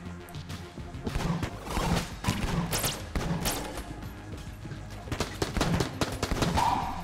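Repeated sharp gunshots and crashing impacts from bouncing bullets in Enter the Gungeon, a steady busy volley of bursts with thumps and hits, under game music.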